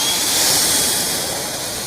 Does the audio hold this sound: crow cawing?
no